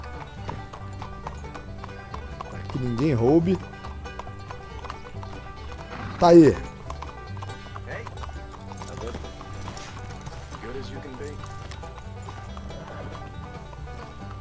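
Hooves of a quarter horse in a video game clip-clop steadily with a couple of loud horse snorts or whinnies, while someone talks over the game sounds.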